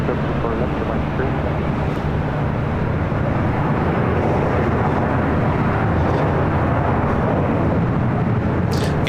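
A four-year-old Emirates Airbus A380 bound for Dubai roars down runway 24 left at LAX on takeoff, a loud, steady broadband jet rumble that fills the whole stretch with no break.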